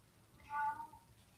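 A cat lets out a single loud, drawn-out meow close by, rising and falling over about half a second against a quiet room.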